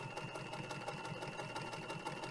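Vintage German Singer 215G sewing machine top stitching through about ten thick fabric layers, a steady fast mechanical whir with an even rapid needle rhythm, close and moderately loud.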